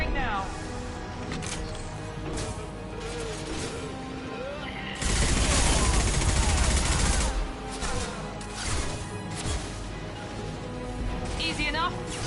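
Weapons firing in Mass Effect 2, a dense crackle of shots and impacts with a louder burst of heavy fire midway, mixed with game voices talking over it.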